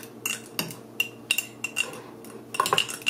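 A spoon stirs balsamic vinegar into fermented mustard, clinking against the container in a series of sharp, irregular taps that quicken into a cluster of rapid clinks at the end; no voices.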